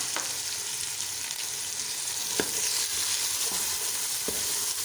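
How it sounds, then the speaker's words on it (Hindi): Chopped onions shallow frying in a pan for a turnip and mutton curry, sizzling in a steady bright hiss with a few soft clicks of stirring, close and continuous with nobody speaking. "अब 5 मिनट तक इसे शैलो फ्राई"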